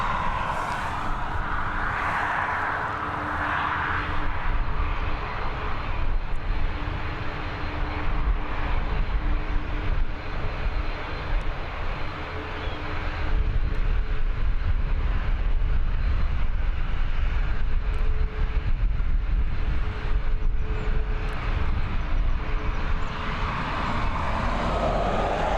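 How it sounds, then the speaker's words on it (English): An Aer Lingus Airbus A320neo arriving from London Heathrow at Dublin Airport gives a steady, fairly distant engine roar that swells slightly as it approaches, alone without voices. "It's an A320 Neo operated by Aer Lingus."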